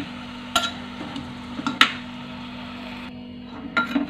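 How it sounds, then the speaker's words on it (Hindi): A spoon stirs an aubergine, potato and tomato sabzi in a pan, sharp metallic scrapes and clinks landing at irregular moments over a low steady hum, close and fairly quiet with no talking. "इसे हम चम्मच से ही इस तरह से मिक्स कर देंगे।"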